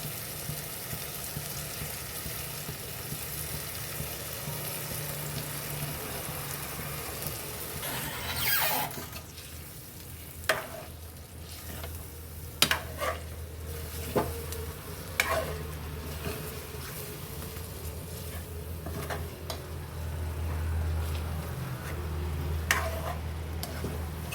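Brinjal frying in masala and oil, a steady close sizzle with soft stirring and scattered sharp clicks and scrapes of a utensil against the pan.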